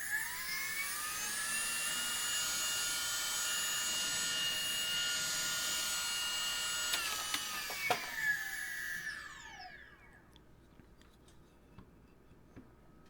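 A homemade turbine fan built from an old drone motor runs with a loud, steady high-pitched whine for about nine seconds, then spins down with a falling pitch and fades away, leaving faint clicks.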